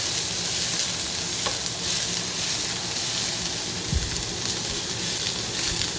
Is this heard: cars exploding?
no